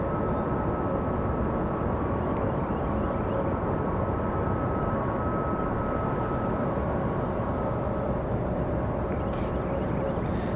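A large airliner rolls along the runway at Raleigh-Durham International Airport, its steady engine roar loud and continuous throughout, with a constant broadband rumble and hum and no pauses.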